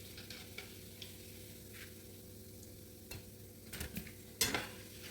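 Puff puff dough balls fry in hot oil with a quiet steady sizzle, and a few utensil scrapes and clinks come near the end as the pieces are lifted out.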